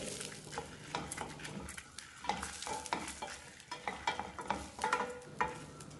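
Garlic and dried red chilies roasting in a pan with asafoetida, heard as a soft continuous sizzle broken by repeated stirring scrapes against the pan.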